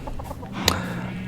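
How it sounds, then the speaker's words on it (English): Turkeys in Minecraft with the Farmer's Delight mod give a short clucking fowl call that peaks in one brief burst, set against a steady background of game ambience. "We've got some turkeys, a little good turkey, but they do attack you."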